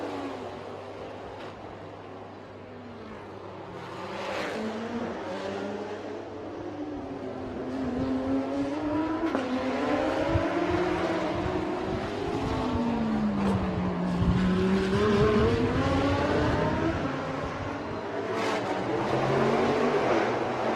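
Race cars at the Bangsaen Grand Prix street circuit, engines droning and rising and falling in pitch as they rev and pass, a continuous loud mechanical roar with no voice over it.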